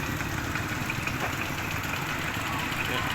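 A farm tractor engine idles steadily close by in rural Laos, a continuous low rumble with a constant mechanical drone and no change in pace.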